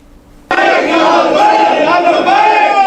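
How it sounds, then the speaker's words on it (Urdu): A crowd of devotees gathered at a grave site, chanting Labbaik slogans together, bursting in suddenly and continuing as a loud, dense, sustained roar of many voices. "لبیک اور اس طرح کے نعرے عقیدت مند جمع ہیں"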